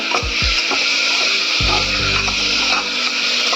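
Chicken pieces fry in a pan for a homemade chicken soup, a continuous bright sizzle broken by a few dull knocks and scrapes as they are stirred, close and with no talking.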